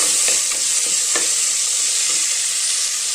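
Tomatoes and onions sauté in a pan for radish gravy, a bright continuous sizzle with a few soft scraping stirs early on, close and steady, no talking.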